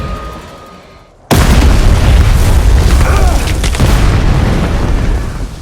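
A sudden loud explosive boom from a detonated explosive erupts after a quiet moment in an action war film, triggering a landslide, followed by a sustained heavy rumble of debris and roaring noise.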